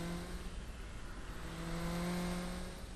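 A race car in a Burnout 3 Takedown replay driving at a steady speed, a continuous engine drone held at a constant pitch with road noise, faint and unbroken.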